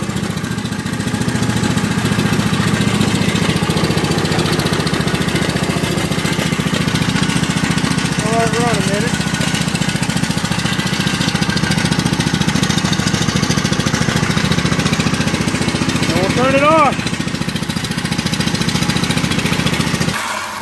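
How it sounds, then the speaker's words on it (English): A Country Clipper riding mower with a bad oil leak idles steadily outdoors at close range, a loud even engine drone with no talk. "I guess I'll do the country clipper really quick. I'm not gonna let it run long at all"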